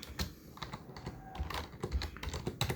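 Typing on a computer keyboard, a quick uneven run of clicky keystrokes close by, steady and alone with no voices.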